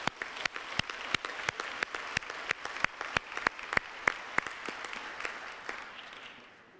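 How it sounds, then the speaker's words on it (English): Audience applause fills the hall at a closing ceremony of the ITU Plenipotentiary Conference 2022, with sharp distinct claps from a nearby clapper over a steady wash of crowd clapping that fades out toward the end. "Let's give her a big round of applause"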